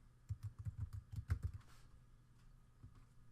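Keys clatter on a computer keyboard in a burst of quick, close taps during data entry, followed by a quieter pause and one last isolated keystroke.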